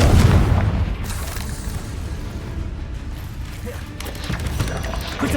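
Confringo fire spell exploding in the video game Hogwarts Legacy, heard as a loud, deep boom that rumbles out and then gives way to a second burst of game effects.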